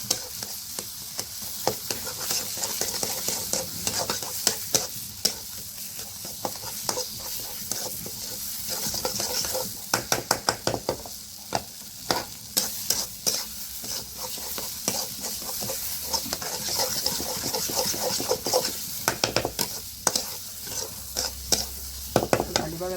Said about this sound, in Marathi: आता हलवून घेते मस्त भाजीला.